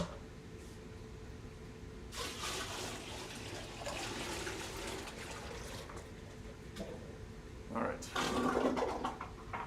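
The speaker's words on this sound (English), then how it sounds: "That was me just dumping some salt water." Salt water from a reef aquarium is dumped out of a bucket, giving a couple of splashing gushes over a steady room hum, with a louder final pour near the end.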